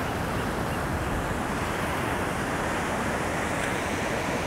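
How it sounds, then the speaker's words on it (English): Ocean waves wash steadily onto the shore at Venice Beach, a loud, continuous broadband surf roar with some wind rumble and no pauses. "There's a lot of water coming in now."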